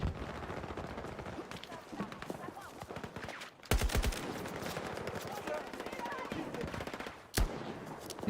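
Rapid automatic gunfire in the video game Battlefield 6, sustained bursts of loud, dense shots with brief gaps and sharp louder reports, while a voice talks underneath.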